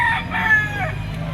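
A rooster crows once in a short burst, fairly close, among poultry for sale from a couple in Caloocan, with faint background noise.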